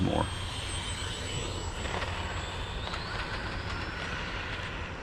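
The jet engine of an L-39 model aircraft whines steadily during a landing approach with full flap, the throttle being eased back, heard at a distance as a sustained tone that slowly shifts pitch over steady background noise.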